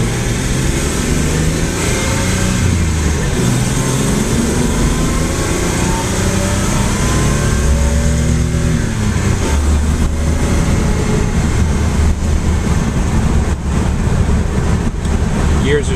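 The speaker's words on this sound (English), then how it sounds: "You hear a little bit of whine, that's a differential." Datsun 240Z with a 4-speed gearbox on the move, its differential giving a faint whine beneath steady road and engine drone throughout, with occasional talk in the car.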